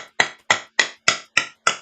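A hammer strikes a hammer handle six times in an even, steady rhythm, each blow a sharp, close, loud knock with a quick decay and silence between, with no voices.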